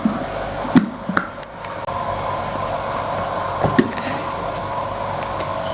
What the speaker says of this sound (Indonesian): Semua bahan ini akan kita blender sampai halus.